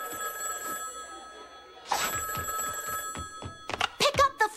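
An old-style telephone bell rings in loud metallic bursts, the first long and the later ones shorter and more rapid, while a voice talks between and under the rings in a cartoon scene.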